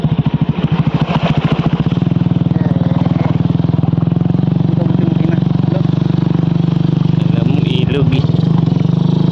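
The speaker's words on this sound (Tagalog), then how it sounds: "Sayad na naman yung motor ko." A motorcycle engine labors as it pushes through deep water on a rough road, a loud close chugging drone with clattering at the start, running steadily under intermittent talk.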